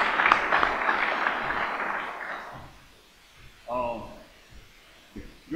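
Audience applause at the Georgia Cotton Commission's annual meeting, a dense burst of many hands clapping for about two and a half seconds before fading, followed by a brief voice.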